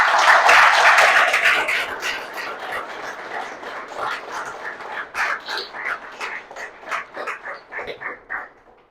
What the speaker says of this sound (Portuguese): Merece ou não merece um aplauso mais forte de todos?